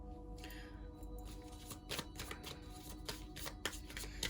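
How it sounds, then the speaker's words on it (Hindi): Tarot cards shuffled and drawn from a deck, a close, steady rustle with crisp flicks and soft riffling snaps throughout, no talking. "और कार्ड लेते हैं"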